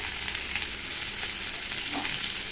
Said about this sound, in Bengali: তো একসাথে এবার ভালো করে একটু ভেজে নেব। দেখো আলু পটলটা আর পেঁয়াজটা বেশ ভাজা হয়েছে।